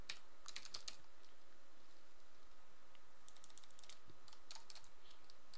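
Bursts of computer keyboard typing while entering Java code, quick irregular clicks in two clusters with a pause between, close and fairly quiet, no voice.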